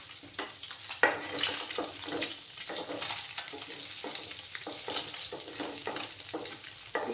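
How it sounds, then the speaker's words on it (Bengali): Eggs sizzle and crackle in a hot frying pan, a steady close sputter broken by occasional scraping or stirring sounds. "দিয়ে ডিমগুলোকে ভালো করে ভেজে নিতে হবে"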